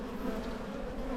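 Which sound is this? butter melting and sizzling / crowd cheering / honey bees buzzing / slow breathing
honey bees buzzing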